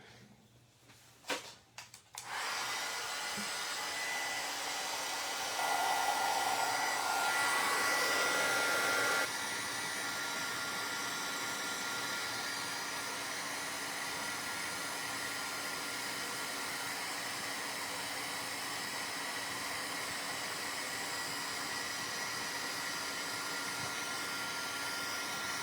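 A heat gun roars steadily while heat-setting embossing powder on a Distress Oxide sunflower background, a constant loud blowing hiss that keeps going without a break after a few clicks at the start.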